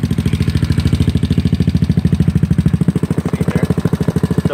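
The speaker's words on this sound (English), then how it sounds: "Want to quiet the engine down just like it's not struggling or it's not like out of breath." GY6 scooter engine idling after carburetor idle and mixture screw tuning, a loud close putter with a fast, even, regular beat that stays steady throughout.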